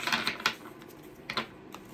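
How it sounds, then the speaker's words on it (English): A stiff tarot card deck is shuffled by hand, giving a few quick papery riffling bursts separated by quieter gaps, close and fairly soft with no speech. "This deck is hard to shuffle."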